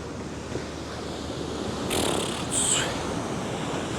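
Ocean waves on a rocky beach with holed rocks wash in a steady, faint hiss of surf that swells slightly midway, with no voices.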